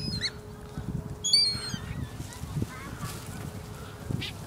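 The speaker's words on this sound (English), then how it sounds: "this is how you feed the birds at Belle Isle" Geese honk and squawk in short bursts while being fed at Belle Isle, close by and irregular, with people talking and laughing over them.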